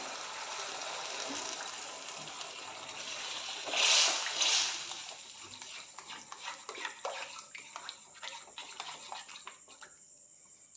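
Water is poured into a pan of chilli soya chunks, making a brief, fairly close splashing gush that rises and fades, followed by softer scattered liquid sputtering as it settles.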